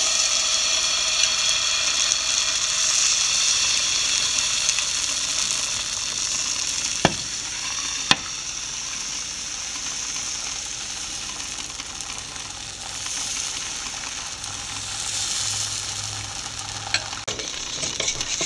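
Wheat dosa cooks on a pan over a low flame, a steady close frying hiss that holds throughout, with two brief sharp clicks in the middle and no talking.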